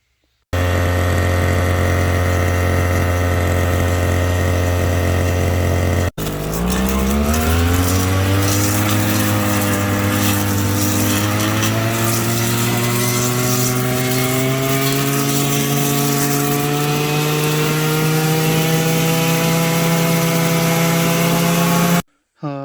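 Petrol brush cutter trimming grass on a hot summer day, heard close as a steady high whine that cuts out briefly, then restarts and revs up to a sustained buzzing drone.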